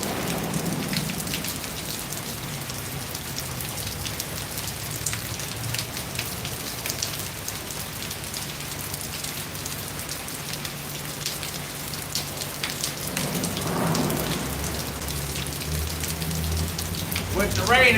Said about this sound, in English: And you give you a little idea how hard it's raining.